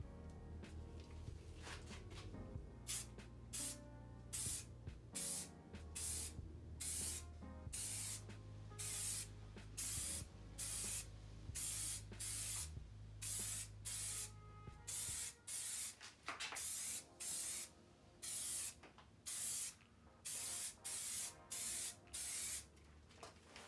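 Short bursts of aerosol spray paint hiss repeatedly onto a Ford Focus ST alloy wheel in a steady rhythm, each lasting about a second, close by with quiet pauses between them.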